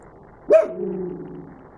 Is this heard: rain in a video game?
no